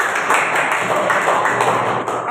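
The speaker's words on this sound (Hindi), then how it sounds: "फुरकान के लिए तालियां होंगी।" A classroom of students claps for a classmate during a maths lesson, steady rapid hand clapping filling the room at close range and fairly loud throughout.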